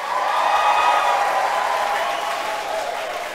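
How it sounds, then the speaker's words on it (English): A crowd breaks into a round of applause for a birthday honoree, the clapping loud at first and gradually tapering off, with faint voices mixed underneath. "Give him a big round of applause."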